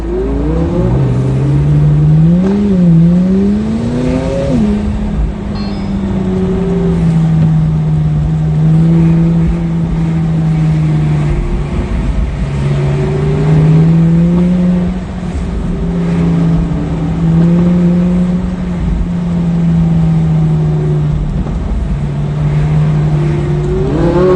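A Lamborghini or McLaren sports car engine revs loudly and continuously, its pitch rising and falling through second and third gear changes, close up with no talking.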